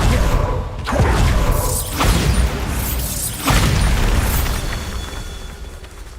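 Bombarda explosion spells in Hogwarts Legacy bursting in four heavy, booming blasts about a second apart, each sharp onset trailing into rumbling debris.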